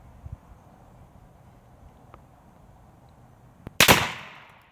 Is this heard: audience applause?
no